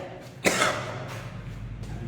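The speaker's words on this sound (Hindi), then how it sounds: "ठंड बढ़ते ही खांसी बढ़ने लगती है।" A single sharp cough bursts out, followed by a couple of fainter breathy throat sounds against a low background hum, with no speech.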